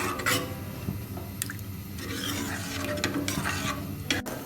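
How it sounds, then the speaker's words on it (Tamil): Coconut milk stew bubbling in a pot as it comes to a boil, with soft simmering liquid sounds, a steady low bubbling and occasional stirring clinks of a ladle against the pot, close and moderately quiet. "இப்போ நல்லா கொதி வந்துருச்சு."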